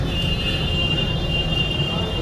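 Constant rumbling hum of a metro train in motion, with a steady high-pitched whine riding over the low rolling noise throughout.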